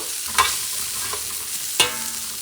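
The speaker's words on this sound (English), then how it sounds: "you're going to mix it for a few seconds. You don't want the garlic burned" Garlic fries in a pan for paella with a close, steady sizzle, broken by two sharp scrapes of a utensil stirring it.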